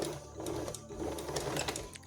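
Sewing machine running close up as it stitches a single-layer fabric food bowl cover, a fast rhythmic mechanical whir and clatter that pulses steadily throughout.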